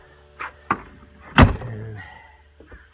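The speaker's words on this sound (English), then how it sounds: "The door opens real nice." A door on a newly built deck porch swings open, giving a few short clicks and knocks followed by one louder thump and creak midway, then a low rumble fading off.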